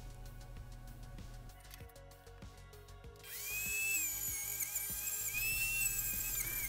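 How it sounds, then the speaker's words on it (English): A small rotary tool grinds rust off the axles of a Matchbox 5c Routemaster London Transport toy bus, a high-pitched whine that starts after some lighter clicking and holds steady close to the microphone. "Now I'm using my little rotary tool to remove the rust from the axles."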